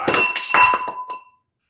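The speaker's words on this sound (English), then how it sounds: "Have one sip and I'm knocking stuff over already" A glass gets knocked over at a table, giving a quick run of bright clinks and rattles that settle and fade to silence within about a second.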